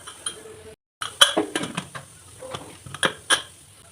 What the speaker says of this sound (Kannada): ಕುಕ್ಕರ್ ಕ್ಲೋಸ್ ಮಾಡೋಣ